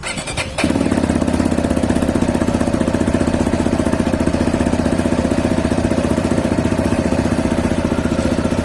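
A CSC RX3 motorcycle's single-cylinder engine catches and settles into a loud, fast, even idle that runs slightly high. The rapid steady pulsing continues close to the microphone without a break, and no one speaks.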